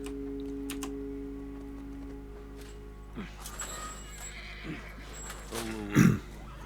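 A horse whinnies in The Last of Us, a loud neigh rising near the end over a low steady game background, with a few soft thuds and a voice speaking briefly.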